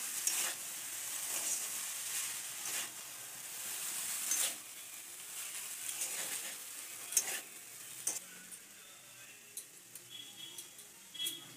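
Chowmein frying in an oiled pan with a steady sizzle, stirred now and then, the spatula scraping and tapping the pan in scattered light clicks, fairly close and with no talking.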